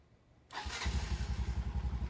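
A motorcycle engine with aftermarket parts cranks and catches, then settles into a steady, pulsing idle, close and fairly loud after a quiet start.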